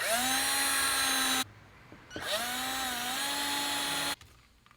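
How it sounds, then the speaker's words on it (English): A power drill whines at high speed in two bursts with a brief pause between, the pitch dipping as the bit drills out plastic on a 2018-2019 Ford Mustang GT exterior part. "Take a drill bit, and then you're just going to drill these out a little bit."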